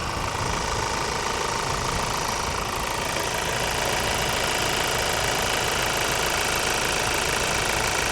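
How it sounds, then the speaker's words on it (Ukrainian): A Ford Focus ST-Line diesel engine with around 200,000 km idles with the hood open, giving a loud, steady, close-up clattering drone with diesel knock that runs unchanged throughout. "Отак виглядає під капотом дизельна машина. Ви чуєте, як вона працює?"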